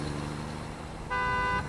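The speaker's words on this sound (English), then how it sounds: "Don't you honk at me, you crazy bastard." A vehicle horn in the factory-building game Satisfactory gives one short, loud honk with a steady tone, standing alone over a low motor hum.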